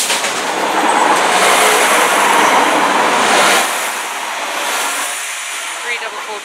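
A train bound for Kidderminster rumbles past the Bentley Heath level crossing, a loud, close broadband roar with rail clatter that gradually eases away; a voice can be heard over it.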